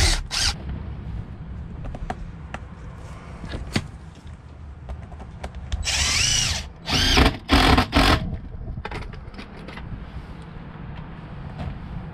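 Power drill briefly snugging bolts on a twin stick auxiliary shifter install in a classic Kenworth W900 with a 13-speed transmission, several short bursts of drilling in the middle of an otherwise quiet workshop backdrop.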